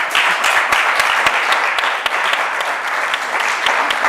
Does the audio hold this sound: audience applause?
yes